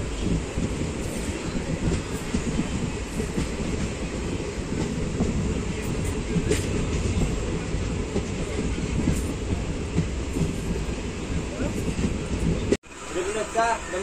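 The Ratnachal SF Express pulls out of Vijayawada station, a steady rumble of rolling wheels and carriages heard from on board, loud and continuous until it cuts off abruptly near the end.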